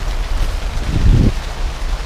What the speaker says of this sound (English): So this rain's pretty bad